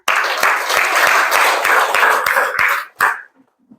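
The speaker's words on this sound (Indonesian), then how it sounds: "Tepuk tangan untuk semuanya." Classroom applause during a teaching performance session, a steady burst of many hands clapping for about three seconds, then a short final clap and a quick fade to quiet.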